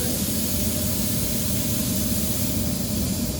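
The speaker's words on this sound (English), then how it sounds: "if I adjust the air down here, you go from a very fine mist to one that's really splattery" A paint spray gun, air adjusted for a coarse splattery mist, hisses in a loud, steady, unbroken burst close by, with no voices over it.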